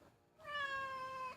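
One long, tonal meow from an indoor cat, close by and steady, fading off sharply at the end with no talk over it.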